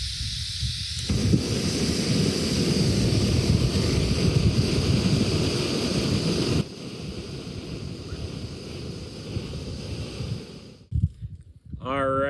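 An MSR Pocket Rocket backpacking gas stove burns with a steady, loud roaring hiss that runs unbroken for several seconds, then dies away near the end, with some outdoor wind noise mixed in.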